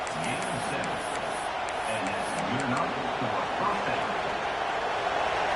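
Stadium crowd in an American football video game, a steady broad roar of massed voices filling the background under commentary speech.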